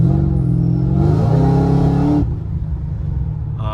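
A Whipple supercharged fifth-generation Camaro with about 700 rear-wheel horsepower accelerates hard, its engine note rising in a loud close roar with supercharger whine, then easing off to a low rumble.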